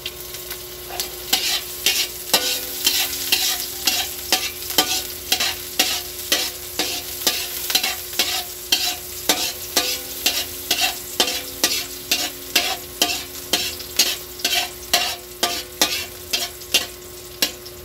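Garlic sautéing in hot oil in a pan for pancit bihon and canton, a steady sizzle broken by regular stirring scrapes roughly once a second, close and clear with no talking.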